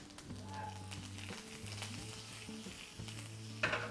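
Urad dal and a bunch of curry leaves sizzle in hot oil as a tempering for semiya bagala bath, a steady close crackle with a faint tonal hum and a brief louder spit near the end.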